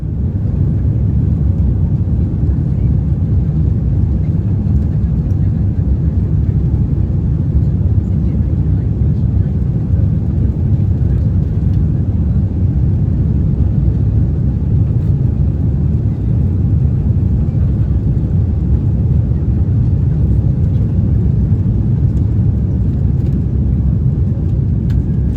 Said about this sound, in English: Now let's get to takeoff.